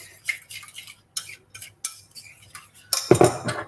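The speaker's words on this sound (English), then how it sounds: "Okay, so I'm just going to give that a stir." A spoon stirs a bowl of tzatziki made from yogurt, mint and garlic, making a series of short scraping clinks against the dish, with a louder burst of clatter near the end; no one speaks.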